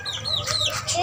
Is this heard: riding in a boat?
no